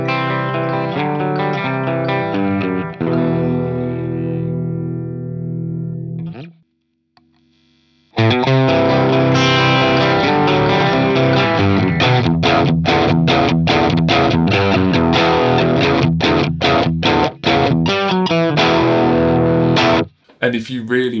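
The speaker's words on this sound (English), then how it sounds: "you can use your EQ pedal as an overdrive or as a boost." Electric guitar run through an EQ pedal used as a boost, pushing the amp into overdrive: loud, crunchy distorted chords ring out, stop briefly, then return as a rapid, choppy strummed rhythm.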